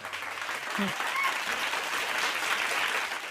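Steady applause from the audience at a Hindi comedy poetry gathering (kavi sammelan), sustained throughout with a dense clapping texture.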